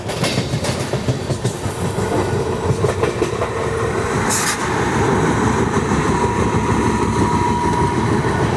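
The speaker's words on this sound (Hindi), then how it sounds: "और यहीं पे खड़ी है अमृतसर नांदेड़ सचखंड एक्सप्रेस।" The Amritsar Nanded Sachkhand Express at an Indian railway station, a loud continuous rumble of rolling rail cars with rhythmic clickety-clack over the joints, close by and without speech.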